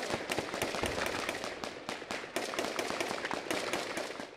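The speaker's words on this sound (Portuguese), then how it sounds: "É possível ver a movimentação das forças de segurança em meio ao som incessante de tiros." Gunshots ring out during a police raid in an industrial area near Paris: a relentless run of sharp, rapid cracks and pops, many per second, heard at a moderate distance.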